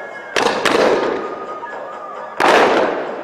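Cannon fire during a sailing ship battle reenactment at a naval event: three sharp booms, two in quick succession and then a third after a pause, each trailing off in a rumbling decay.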